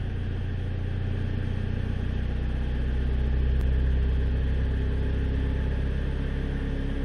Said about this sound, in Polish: Idą same obroty.